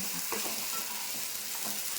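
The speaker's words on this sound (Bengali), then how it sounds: "একটু ভাজা ভাজা করবো একদম যতক্ষণ এই জলটা টেনে যাচ্ছে" Steady close-up sizzle of food frying in a pan, with a few scraping stirs, no voices.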